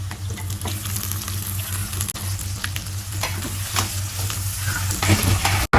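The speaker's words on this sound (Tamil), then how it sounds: "வெங்காயம் ஆரஞ்சு கலர் திரும்புற அப்படி வதக்கிங்க." Sliced onions sauté in hot oil for an onion chutney, a steady close sizzle broken by scraping stirs, with no voices.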